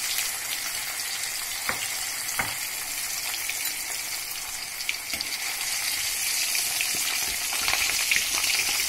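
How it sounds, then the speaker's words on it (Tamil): Pieces of chicken 65 deep fry in hot oil over a medium flame, a close, loud and steady sizzle with crackling pops throughout and no talking. "நல்லா 5 minutes ஹீட் பண்ணனால தான் நல்லா ஃப்ரை ஆகுது"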